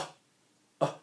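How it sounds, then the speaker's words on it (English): A person coughs twice, short and close, with a quiet pause between the two bursts. "is that a cough?"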